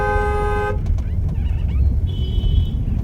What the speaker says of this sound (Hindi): हॉर्न दीजिए लॉन्ग